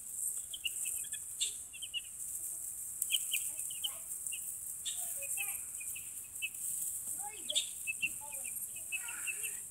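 Chickens and chicks on a small farm make soft clucks and scattered high peeps over a steady, hissy background, with calls coming and going throughout.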